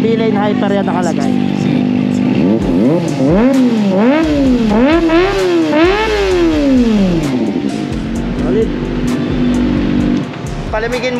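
Close and loud, a Kawasaki Ninja ZX-25R with a Villain Hyper aftermarket muffler is blipped through a series of quick, climbing revs that peak and drop away to a steady idle.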